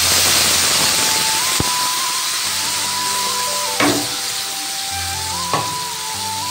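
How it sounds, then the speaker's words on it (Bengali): Spice paste and green chillies dropped into hot oil while making a mustard dish, giving a continuous close sizzle with a few sharp clinks and knocks from the utensil. "তারপর করে রাখা যে পেস্ট সেইটাকে আমি দিয়ে দিচ্ছি তেলের উপর।"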